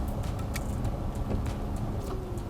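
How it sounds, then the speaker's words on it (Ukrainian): A steady, low ventilation fan whir fills the interior of a 2024 Nissan Ariya, with occasional small clicks and rattles scattered over the hum. "якось гучно працює вентилятор"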